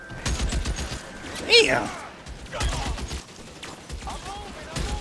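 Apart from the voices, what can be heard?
rapid fire hunting rifle gunfire in L.A. Noire video game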